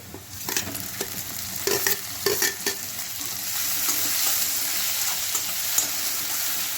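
Chopped onions and tomatoes sizzle steadily in a hot pan for a dosa filling, with several sharp scraping stirs of a spoon early on before the frying settles into an even, close hiss.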